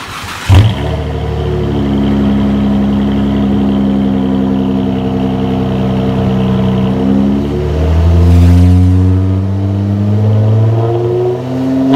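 A 2016 Dodge Charger with a 3.7-liter V6, straight-piped through an X-pipe and a Flowmaster 10 Series muffler, starts up close by and settles into a deep, steady idle, then gives a brief rev before dropping back.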